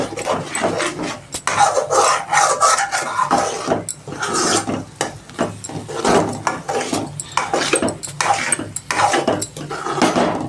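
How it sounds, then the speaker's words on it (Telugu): Egg fry is stirred slowly in a pan over a low flame, with the spoon scraping and clinking against the pan in irregular strokes, loud and close, with no voice heard. "ఈ విధంగా చిన్నగా సిమ్లో పెట్టుకొని నిదానంగా కలుపుతూనే ఉండాలి"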